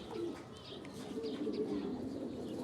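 Domestic pigeons in a home loft coo softly and repeatedly, the low murmuring calls faint and steady against quiet background noise.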